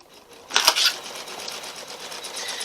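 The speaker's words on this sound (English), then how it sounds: "So I'm just going to let that sew out now." A Janome MC15000 sewing machine stitches out a red work quilt block, a brief burst of fast needle chatter rising after a quiet start, then settling into a faint, steady hum.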